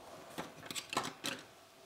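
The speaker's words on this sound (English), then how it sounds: "grab some broken scissors that I have to open with two hands, and then we cut this thing open" Three or four short crisp snips of broken scissors cutting open packaging, close and fairly quiet, with brief pauses between cuts and no talking.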